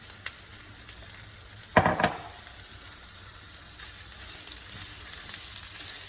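Sliced sausage sizzles and fries in a pan with a steady, fairly quiet hiss, broken around the two-second mark by a brief louder burst of stirring or scraping.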